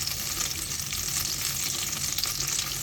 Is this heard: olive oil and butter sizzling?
yes